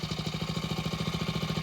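Small outboard boat motor idling, a steady, fast, even chugging pulse with a smoky low rumble, close and moderately loud, with nobody speaking.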